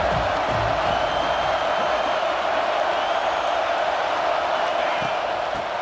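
A stadium crowd in the EA Sports College Football 26 video game roars steadily through a fourth-quarter defensive stand, a dense continuous wall of cheering that stays level throughout.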